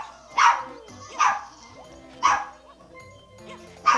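Dog barking in Super Mario Sunshine's Gelato Beach level, four sharp yips spaced about a second apart over game music, with a voice talking in the background.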